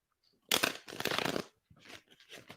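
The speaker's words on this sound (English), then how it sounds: "One more shuffle." Worn tarot cards being shuffled close up: one long riffle burst, a second longer one, then softer shorter riffles trailing off, with quiet pauses between.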